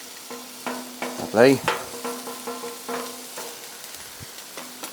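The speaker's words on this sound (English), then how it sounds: "I want to get this bacon nice and crispy." Bacon with peppers and onions frying in bacon fat: a soft, steady sizzle broken by scattered stirring and clinking strokes, close by, with a brief spoken word and a whistle-like tone partway through.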